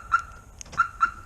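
A Chevrolet Colorado Z71 crew cab pickup's alarm answers its remote with short electronic chirps, three quick tonal beeps spaced about a third of a second apart, clear and fairly close with nothing else around them.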